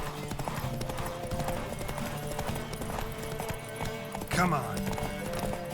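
Galloping horse hooves in The Witcher 3, rhythmic clip-clop throughout mixed with game music, a brief spoken line and a louder burst near the end.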